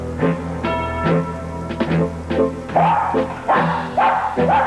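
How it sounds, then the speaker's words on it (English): Puppy in a kitchen giving a series of loud, close barks and yips, about eight sharp bursts spaced irregularly over a steady low hum. "The first member of Jared's family to be touched by the spirit was a puppy playing in the kitchen."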